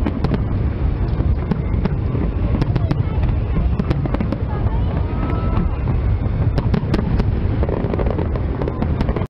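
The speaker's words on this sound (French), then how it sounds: "Voici quelques images du feu d'artifice prise du fleuve Tionga en ville." Dense, continuous crackling and popping of fireworks over the Tionga river in town, loud and steady, with wind rumbling against the microphone throughout.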